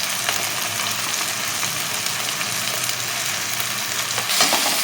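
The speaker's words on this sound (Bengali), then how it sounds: "এবার এই মশলাগুলোকে একটু ভালো করে কষাবো" Turmeric, chilli, cumin and coriander powders fry and get stirred in a pan for a potato dum curry, a steady close sizzle with a spatula scraping now and then, loud and continuous with no talk.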